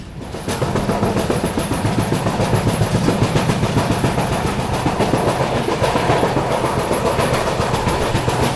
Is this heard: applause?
no